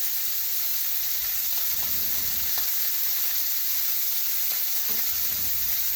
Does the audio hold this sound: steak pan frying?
yes